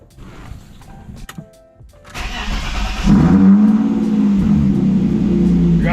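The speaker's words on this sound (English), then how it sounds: "Let's go ahead and try to crank it up, see if it starts." A 30-year-old BMW E36 cranks over briefly, then its engine catches and settles into a loud, steady idle close by, with no talk.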